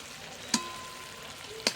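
Mutton sizzles steadily while it is sautéed (kosha) in a pan. Two sharp utensil clanks cut through the continuous frying hiss, close up, with no talking.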